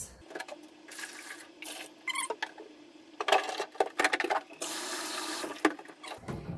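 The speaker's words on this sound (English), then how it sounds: "I'm going to put some water and vinegar down at the bottom for soaking" Water and vinegar poured into a humidifier base for soaking, intermittent splashing and trickling bursts with pauses between pours, close and fairly quiet.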